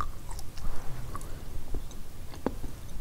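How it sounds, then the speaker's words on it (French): Someone chews childhood cakes close to the mic, with irregular soft crunches and wet mouth sounds over about three seconds and no talking. "Et là, on peut les mâcher."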